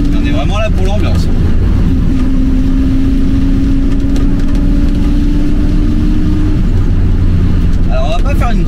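An MGB car's engine drones loudly from inside the cabin while driving, with a rising pitch as it revs, and someone speaks briefly over the roar at the start and end.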